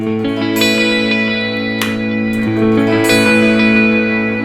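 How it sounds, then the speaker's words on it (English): A clean electric guitar through the Neural DSP Archetype: Nolly amp plugin plays loud, sustained chords alone. The notes ring evenly with a smooth, compressed, steady level. "You can hear how there's more gain and push coming out of the pickups of this guitar."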